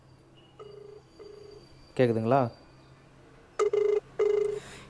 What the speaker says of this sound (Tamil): கால் வருது என் வாட்சிலேருந்து.